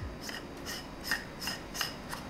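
A vintage Helios 44M-4 lens is screwed onto an M42 adapter, giving close, repeated short metallic rasps in a steady rhythm of about five twists, with no voices.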